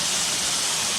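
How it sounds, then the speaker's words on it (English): Waterfall water pouring through a crack in the rocks and splashing off them into a pool, a steady, dense rushing roar with no breaks, close by and filling the whole short stretch. "then splashes off the rocks, fills up and then drops down to the next one"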